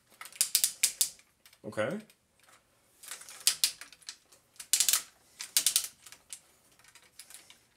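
Ratcheting waist swivel joint on a Pose+ Metal Series Machine Robo figure, turned by hand: bursts of crisp, close mechanical clicks in quick runs, with a brief spoken word in between.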